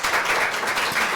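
Brief burst of audience applause after a conference talk, dense steady clapping from a crowd, fairly loud and without voices.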